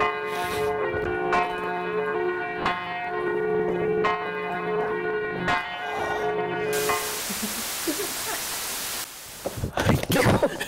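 A bell rings in a Victorian market hall in Darlington, several resonant strikes with long ringing overtones over the first seven seconds, followed by loud hissing noise and a few rustling bumps.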